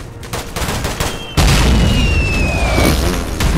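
Loud gunfire or blast in the video game Garry's Mod, a sudden heavy boom that jumps in partway through and then sustains as dense, rumbling noise with a whistling streak over it, with no talk.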